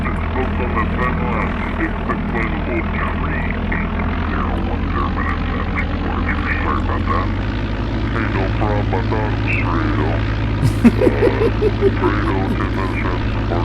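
A propeller airplane's engine drones steadily as it takes off in the video game Flight Simulator 95, from Greater Kankakee's runway 4. The engine noise stays loud and continuous throughout, with brief higher chirps near the end and voices underneath.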